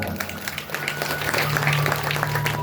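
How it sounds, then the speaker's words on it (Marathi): Audience clapping at the closing session of a religious discourse gathering, a dense, steady patter of many hands sustained throughout, with a low tonal hum or music underneath and some crowd murmur. "त्यांच्यासाठी एकदा जोरदार टाळ्या वाजवा"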